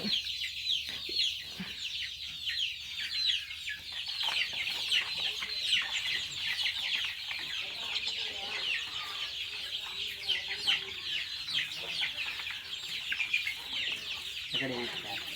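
A flock of native country chickens and chicks in a coconut grove clucking and peeping continuously, with high chirps filling the background and occasional louder clucks nearby.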